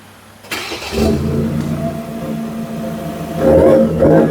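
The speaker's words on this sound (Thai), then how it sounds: "เดี๋ยวผมสตาร์ทเครื่องยนต์ให้ฟังกันนะครับ" The 2.0L bi-turbo diesel engine of a Stromtrak 4x4 pickup with a 10-speed automatic cranks and catches after a short click, then settles into a loud, rough idle with a brief rev near the end.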